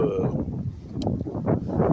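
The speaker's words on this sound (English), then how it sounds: "it's a little windy out here, man." Gusty wind buffets a microphone outdoors on a city street in Sacramento, California, a steady low rumble that swells and eases over the whole stretch with no clear talk.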